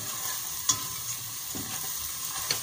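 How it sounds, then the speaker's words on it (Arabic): Onion, garlic and spices frying in oil for a Lebanese bulgur and tomato dish, a steady close sizzle with a few sharp pops and the occasional stir, no talk. "نص البهارات بنزلهم تياخذوا تقلية بالزيت"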